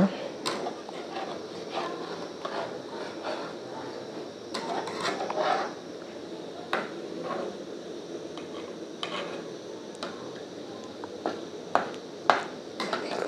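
Chicken gravy stirred in a pan after water is added, with repeated scraping and clinking of a utensil against metal over a soft simmer, irregular taps spread through the stretch.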